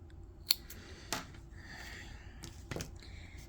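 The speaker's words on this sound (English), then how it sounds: "Then we're gonna cut off the threads." Scissors snipping crochet threads on a granny-square chicken project, a few quiet crisp snips spread across a few seconds against soft room background.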